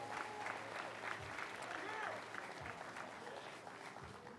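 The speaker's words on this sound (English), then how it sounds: "please, round of applause" A crowd applauds at the grand opening of a new CSUDH university building as local officials are introduced: steady, dense clapping that fills the whole stretch at an even level without letting up.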